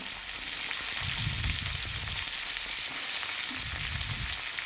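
Vegetables and beans frying in mustard oil with cardamom, dried red chillies, bay leaf and panch phoron, a steady hissing sizzle with low rumbling bursts of stirring, close and continuous.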